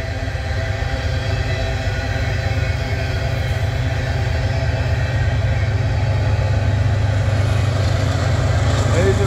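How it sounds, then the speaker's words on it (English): Freight train locomotive approaching, a steady low diesel rumble holding at constant loudness throughout, with someone speaking quietly over it. "I hear the train, the engine coming up."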